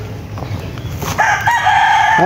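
A rooster crows loudly and close by, a long rising call that follows some quieter background murmur.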